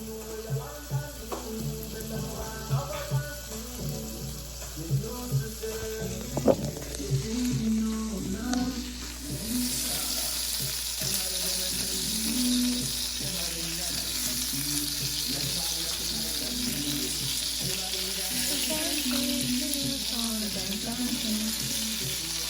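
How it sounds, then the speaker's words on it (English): Butter melting in a whole frying pan gives a steady sizzle throughout, with scraping and stirring noises and a brighter hiss in the second half, a voice briefly heard under it. "I'm letting the butter melt. Just butter in the whole pan."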